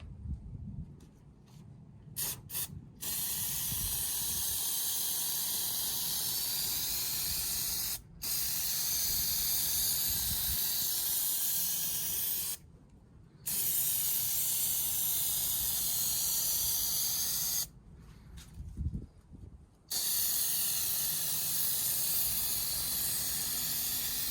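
An aerosol can sprays a second coat of black paint onto a Chevy Tahoe PPV grille in close, hissing bursts, four long steady sprays separated by short pauses and a few brief taps.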